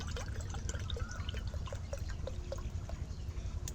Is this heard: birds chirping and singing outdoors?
no